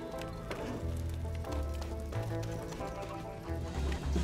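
Rhythmic clip-clop of horse hooves pulling a wagon in The LEGO Movie Videogame, steady and close, over a continuous musical game soundtrack.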